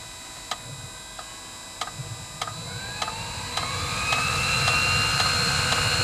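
A Chinese diesel water heater's fuel pump ticks in regular sharp clicks about every half second, while the heater's fan starts to whine up and gradually builds into a steady rising drone.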